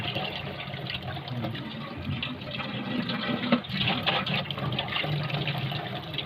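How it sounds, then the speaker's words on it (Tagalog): Water runs steadily into a cooking pot, a continuous gushing fill with faint clinks, close by and moderately quiet. "Lagyan na natin siya ng tubig."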